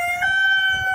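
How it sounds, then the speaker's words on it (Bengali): Australorp chickens and roosters on a farm with a steady, sustained crow-like tone held across the whole second; close and fairly loud, with soft low clucking underneath. "আর এখানে আছে অস্ট্রেলাপের মুরগিগুলো"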